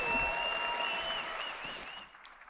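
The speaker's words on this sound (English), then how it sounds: "Clap, clap." Audience applause at a live gaming convention presentation, a dense sustained clapping from a large crowd that fades toward the end, with a tonal hum or feedback line running underneath.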